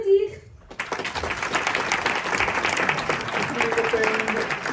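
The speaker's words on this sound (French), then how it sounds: "Veuillez applaudir." A cabaret audience bursts into applause after an announcer's brief spoken line, steady dense clapping from a crowd filling the hall for several seconds.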